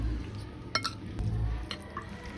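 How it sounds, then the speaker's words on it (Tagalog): Batter of grated bottle gourd, egg, flour and cornstarch is stirred in a bowl, giving soft wet sloshing with a few sharp utensil clinks against the side, close and brief. "halu-haluin ko lang hanggang sa mag-combine na lahat ng ingredients na nilagay ko"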